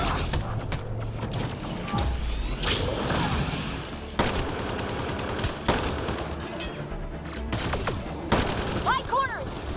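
Sustained gunfire and bursts of automatic weapons in a Mass Effect: Andromeda firefight against Kett forces, continuous and loud with booms and mechanical clatter, under shouted combat dialogue.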